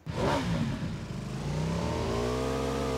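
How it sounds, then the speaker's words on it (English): A motorbike with a sidecar revs up in a video game, its engine rising in a loud, steady whirring drone that holds and thickens as it accelerates, with no talk over it. "Drive motorbike."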